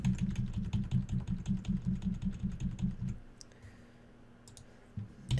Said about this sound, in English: I'm just using the arrow keys to nudge them into place.